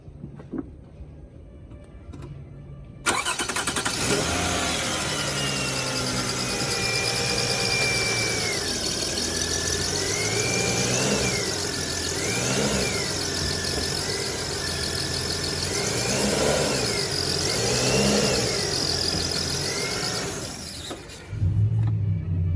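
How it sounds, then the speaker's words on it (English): A Lexus ES 330 engine runs steadily after a torque mount replacement, a loud, even idle rumble that starts abruptly and holds for about eighteen seconds before cutting off. "now I'm going to show you how that mount looks when the car is running again"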